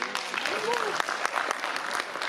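A meeting audience in Bobigny, France, applauds with steady scattered clapping that runs throughout, a voice speaking over it near the start.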